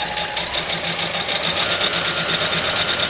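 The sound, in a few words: sewing machine sewing a quilt border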